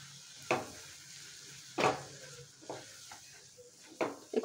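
Tomatoes with salt, turmeric, chili powder and coriander powder are stirred in a pan, several quiet scraping strokes over a soft sizzle, close by and without speech.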